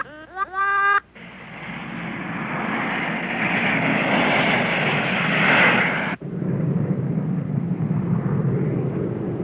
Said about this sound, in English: I wonder if that jet's coming from home.